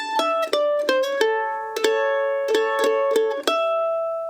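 Mandolin picking a quick bluegrass lick from a solo, crisp plucked notes in a lively rhythm with ringing sustain, close and clear with no voices.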